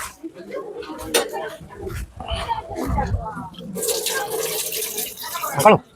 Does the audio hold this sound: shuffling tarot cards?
no